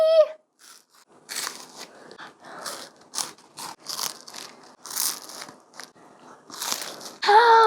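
Repeated crisp bites and crunches into a homemade wafer chocolate piano snack, with chewing between bursts, close and fairly loud, and a short spoken or squeaky sound at the start and end.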